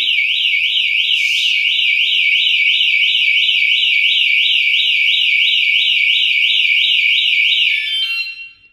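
Anti-theft alarm fitted to a NextGen 11.5 kayak and trailer blares a loud, piercing warbling tone that sweeps rapidly up and down without a break for about eight seconds, then cuts off abruptly.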